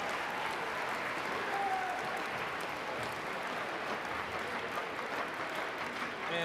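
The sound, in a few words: audience applause welcoming new colleagues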